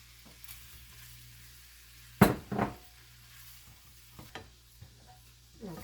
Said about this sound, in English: Now I'm going to add the steak back into this. Cook it for another minute or so.